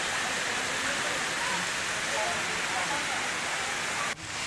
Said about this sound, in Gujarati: જળસપાટી વધતા પુલના 6 ફૂટ ઉપરથી પાણી વહી રહ્યું છે